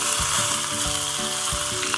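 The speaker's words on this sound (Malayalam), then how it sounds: "ഇതിലേക്ക് 1 ടീസ്പൂൺ കടുക് ഇട്ട് പൊട്ടിച്ചു കൊടുക്കാം" Mustard seeds and dried red chilies splutter and crackle in hot oil for a tempering, a dense continuous sizzle with scattered sharp pops, loud and close, no voices.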